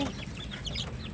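Young chickens without a mother hen, somewhat skittish, clucking softly in a short, faint burst of farmyard sound.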